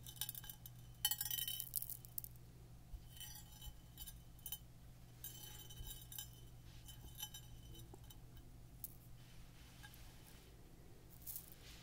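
Small stray candy pieces are picked up close to a binaural microphone, giving a few faint clinks and light taps, with a slightly louder cluster early on and sparse quiet ticks afterward.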